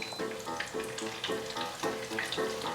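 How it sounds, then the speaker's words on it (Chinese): A breaded, layered cabbage cutlet deep-fries in plenty of hot oil over medium-low heat, giving a dense, continuous bubbling crackle with a gently pulsing rhythm, close and clear. "油熱了，放進來炸，轉中小火。"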